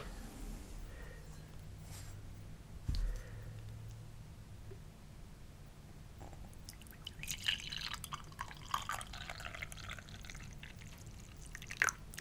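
Coffee poured from a coffee pot into a cup, a soft trickling stream with dripping, rising in the second half into a brighter splashing pour, quiet and close.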